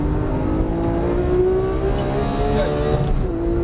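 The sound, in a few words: Porsche 991 GT3 accelerating on race track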